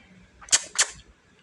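Two sharp finger snaps about a quarter second apart, crisp and close, with nothing else around them.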